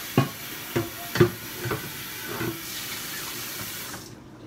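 Water splashes and sloshes inside a crock pot being rinsed out in a kitchen, with a few sharp knocks and splashes up close before it goes quiet.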